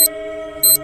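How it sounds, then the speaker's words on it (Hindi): A short electronic alarm clock beep sounds twice in quick succession over a low steady tone, loud and close, ringing in the morning. "सुबह होने पर अलार्म बजता है।"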